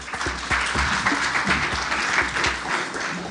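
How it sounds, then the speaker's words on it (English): Audience applause at an International Women's Day gender equality event, a full, fairly close round of clapping with distinct heavier claps, holding steady before easing slightly at the end. "Another hand of applause."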